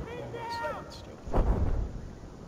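Gunfire in Battlefield 4, a muffled burst of shots or a heavy blast rumbling low and loud for about a second midway, with someone speaking over the game sounds before it.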